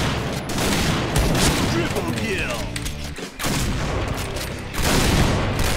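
Sustained automatic gunfire rattles through a video game shooter, loud and continuous with a few heavy booms, and a brief lull falls midway.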